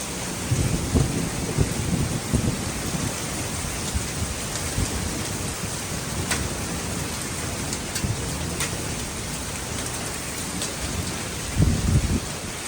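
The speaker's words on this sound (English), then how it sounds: "we had one heck of a storm last night" Steady heavy prairie thunderstorm rain pours throughout, with low rumbles of thunder rolling in and out and a few sharp crackles cutting through.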